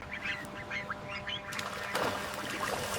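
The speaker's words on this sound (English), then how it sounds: "Magpie duck juveniles take to grazing immediately on their first outdoor exposure." Juvenile magpie ducks quack outdoors on a farm, a quick run of soft, scattered quacks fairly close by, over low background noise and a brief rustle.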